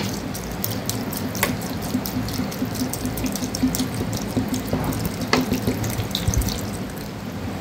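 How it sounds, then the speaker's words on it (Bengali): Water pouring into a clay pot over cooled rice, a steady, close splashing rush of liquid that runs loudly the whole time, with no talk. "এবার দিয়ে দিচ্ছি জল।"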